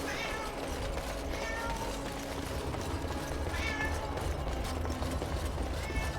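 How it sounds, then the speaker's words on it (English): A cat in the video game Dragon Age: Awakening lets out a couple of drawn-out meows over a dense, busy game soundscape, one early and another past the midpoint. "The stupid cat needs to learn when to shut up."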